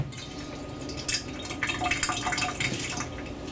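Water is poured into a rice cooker pot with three cups of rice, making a bright, close splashing and trickling that swells as the flow strengthens midway and then carries on steadily.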